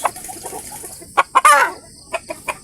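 Backyard chickens cluck in short, irregular bursts, with one louder squawking cluck in the middle, close by and without any talking.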